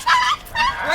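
A dog yelps and whimpers in two high, strained bursts during a police K-9 confrontation, loud and close, with a short gap between the cries.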